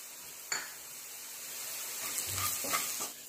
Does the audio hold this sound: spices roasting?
yes